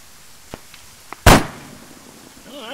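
Arma 3 gunfire: two faint distant pops, then one loud close shot with a sharp crack and a short rumbling tail, as a warbling tone rises at the end.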